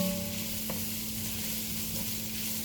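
Softened onions and vegetables for a bolognese are stirred as they fry in a pan: a continuous close sizzle with a steady hum, no voices.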